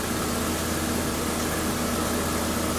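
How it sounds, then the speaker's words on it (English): A 2011 Buick Regal Turbo 2.0 engine runs at a steady idle, giving a constant low hum with broadband mechanical noise and no change in pitch for a few seconds, with no talking. "although the engine is running"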